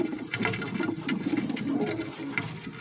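A captured pigeon cooing close by, a series of soft low throaty coos in repeating bursts over faint background noise.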